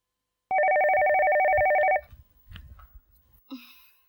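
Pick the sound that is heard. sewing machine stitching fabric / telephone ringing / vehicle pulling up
telephone ringing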